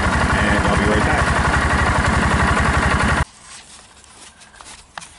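A Cub Cadet Challenger 750 utility vehicle engine idles with a steady rapid pulsing thrum, close and loud, then shuts off abruptly, leaving quiet background noise and a few faint clicks.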